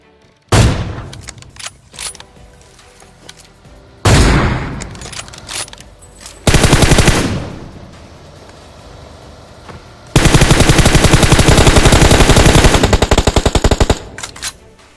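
Gunfire from a shooting video game: several loud bursts of rapid automatic fire separated by short pauses, the longest sustained burst near the end, with no talking.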